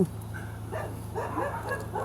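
A few short dog barks and yips, moderately near, over a steady low engine hum.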